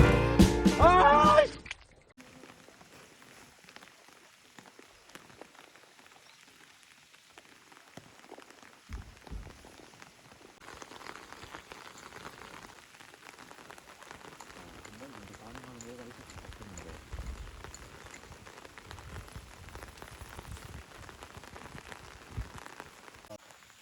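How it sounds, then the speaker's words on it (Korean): Rain falling on a reservoir during a bass fishing outing, a soft, steady patter of drops spread across the water, faint and continuous after a brief loud burst of handling noise at the start. "비가 오는 와중에 저수지를 한번 다시 한번 찾아와 봤습니다"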